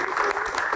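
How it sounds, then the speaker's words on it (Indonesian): A studio audience on an Indonesian talk show claps for a panelist being introduced, a brief, dense burst of applause filling the moment. "Kita kasih tepuk tangan."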